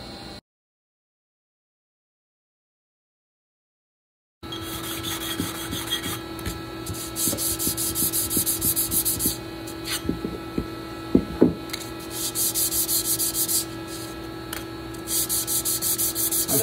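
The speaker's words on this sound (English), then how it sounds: "I'll demonstrate some techniques and on scraping a stock." A scraper drawn along the wooden stock of a flintlock rifle gives repeated rasping, rubbing strokes over a steady background hum after a brief silence at the start.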